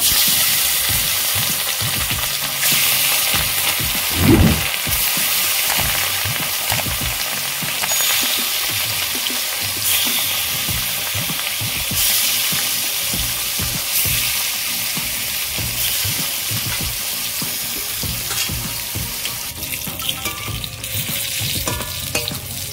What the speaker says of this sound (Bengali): মাছগুলো এবার আমি ভেজে নেব।